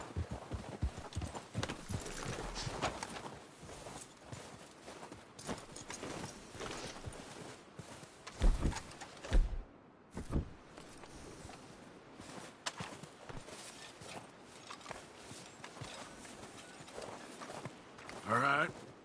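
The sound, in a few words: horses walking in video game Red Dead Redemption 2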